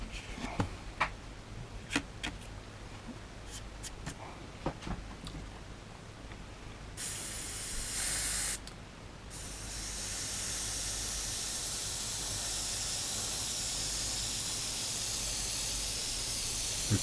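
Airbrush spraying paint onto a Tamiya 1/48 North American P-51D Mustang model, a steady close hiss that starts after some light clicks and ticks and then runs continuously for about ten seconds.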